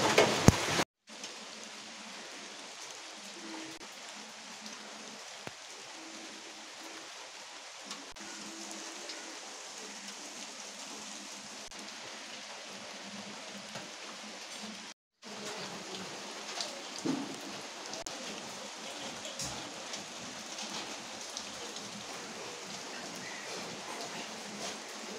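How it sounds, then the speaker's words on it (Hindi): Heavy rain pouring down outdoors, a dense continuous hiss, steady and moderately loud, broken by a brief gap near the middle, with a few faint background sounds and no speech. "बहुत ज़ोर से बारिश हो रही है"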